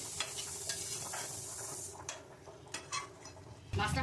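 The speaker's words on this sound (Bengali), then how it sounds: "মাছগুলো সব দিয়ে দিয়েছি, এখন আর একটু ফুটবে।" Silver carp fish curry gravy simmering in a pan, a steady soft bubbling and sizzling close by, with a few light clinks of utensils and a louder stir near the end.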